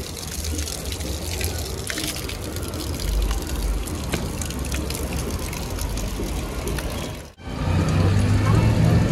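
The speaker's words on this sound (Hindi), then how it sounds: "यहाँ देखो पानी एकदम ठंडा पानी आ रहा है" Water gushes and splashes steadily at close range, loud and continuous, with a brief cut near the end before the rushing resumes.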